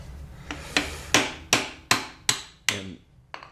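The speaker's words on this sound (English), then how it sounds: "you want to get in between the pan and the housing, and just try to tap that thing in there" A hammer taps a putty knife into the seam between the pan and housing of a Cub Cadet Z Force hydro transmission: about eight sharp, close metallic strikes in a steady rhythm, each ringing briefly before the next.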